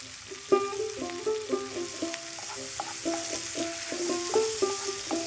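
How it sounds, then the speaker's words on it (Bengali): Chopped onion, green chilli and tomato fry in a spoonful of ghee with a dried red chilli in a fish-frying pan, sizzling steadily under repeated rhythmic stirring scrapes close by. "এবার মাছ ভাজার প্যানে 1 চামচ ঘি, 1টা শুকনো লঙ্কা ফোড়ন দিয়ে তাতে পেঁয়াজ কুচি, কাঁচা লঙ্কা কুচি, টমেটো কুচি দিয়ে ভালো করে ভেজে নিতে হবে"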